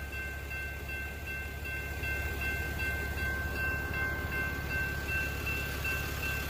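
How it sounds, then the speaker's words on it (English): A stopped train sits at railroad tracks, giving a low, steady rumble with a faint high tonal whine above it, fairly distant and quiet, with no voices. "I don't know where the rest of the train is"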